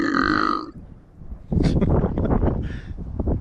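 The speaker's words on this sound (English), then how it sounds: "Insert belching noise right here." A single loud belch at the start, out in cold weather on a fishing trip in central Kansas, followed by a quiet pause and then a burst of rustling and wind noise.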